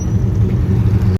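A McLaren F1 supercar pulls away on a Paris street, its engine a steady low rumble that holds loud and close for about a second before cutting off abruptly.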